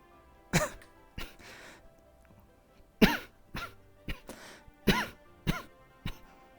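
Someone coughs and clears their throat during a tabletop role-playing game session: about nine sharp, close bursts come at uneven intervals, with quiet between them and no speech.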